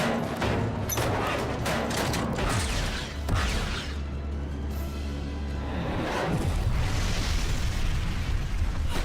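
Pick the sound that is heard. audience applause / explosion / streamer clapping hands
explosion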